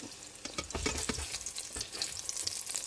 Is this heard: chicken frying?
yes